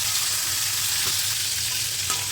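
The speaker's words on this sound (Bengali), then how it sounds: "মশলাটাকে ভালো মতো কষিয়ে নেব" Ground spice masala of garlic paste, chilli powder and turmeric fries in a pan for a fish curry, giving a loud, continuous sizzle throughout.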